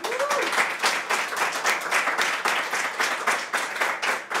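An audience applauds a singer with close, lively clapping that stays full and even throughout, with no voices on top.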